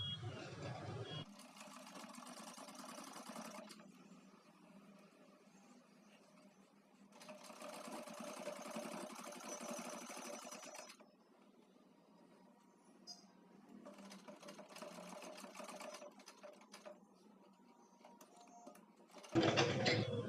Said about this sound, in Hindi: प्लीट के ऊपर सिलाई देंगे।